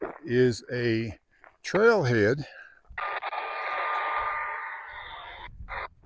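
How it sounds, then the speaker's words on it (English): Radio static hisses steadily for about three seconds at a campground trailhead, following a man's speech, a broad rushing noise with a faint tonal whine, fairly loud and close. "Sorry for the radio noise"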